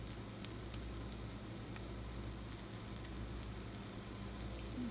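Eggs and onions fry in oil in a home kitchen with a steady, even sizzle that holds at moderate volume throughout, close up and free of speech.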